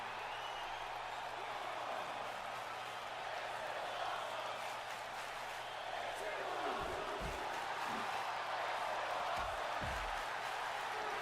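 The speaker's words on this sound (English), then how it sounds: "This is an awesome chant from the in-game crowd." An in-game arena crowd in a WWE 2K wrestling match roars and chants as a steady wash of noise, broken by a few booming impacts near the end.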